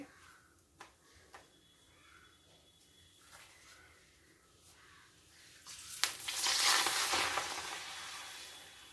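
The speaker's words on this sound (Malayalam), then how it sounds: "ഞാൻ ഇച്ചിരി എണ്ണ ഒഴിച്ച് പപ്പടം കാച്ചു" Papadam frying in a little oil in a pan: a quiet low crackle at first, then a loud burst of sizzling and bubbling as it puffs up, fading toward the end.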